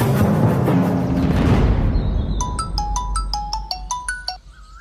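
A phone's ringtone plays as a repeating series of bright electronic tones after about two seconds, rising clearly over a dense, noisy background scene from a Tamil TV serial.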